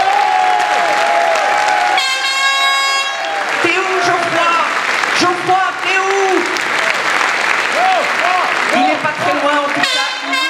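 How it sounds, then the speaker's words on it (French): An audience at a political rally in Paris applauds and cheers loudly and steadily, with whistles, horn blasts and shouting voices mixed into the ovation. "je vais vous demander d'applaudir tous très fort Geoffroy Lejeune, notre animateur vedette"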